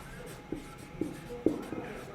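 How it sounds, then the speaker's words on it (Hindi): Pen strokes on paper during a maths lesson on quadratic equations, a few soft scratchy taps at steady intervals, close and quiet, with no talk over them. "तो यहां पर हम लिखते हैं"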